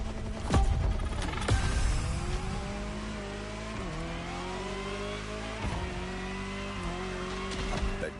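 Jaguar CX-75 concept car in The Crew Motorfest racing game, its engine loud and revving through repeated gear shifts, with sharp tire squeals near the start.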